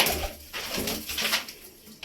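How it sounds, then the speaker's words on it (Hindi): Soft, low coos from a red pigeon repeat in a gentle rhythm, close by, with faint background noise and no talking. "ये वाला कबूतर है जी"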